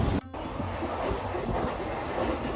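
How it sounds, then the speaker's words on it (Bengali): The Vibhuti Express, running from Howrah, rolls along the rails with a steady rumbling, rattling roar and faint clatter from inside the carriage, after a brief dropout near the start. "বিভূতি এক্সপ্রেস প্রতিদিন হাওড়া স্টেশন থেকে রাত্রির আটটার সময় ছাড়ে"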